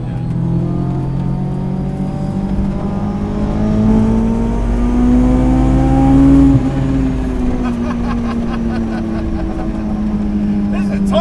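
A supercharged Honda S2000 track car makes about 385 wheel horsepower, and its engine revs high and loud up through the range, pitch climbing then dropping, with voices talking over the roar.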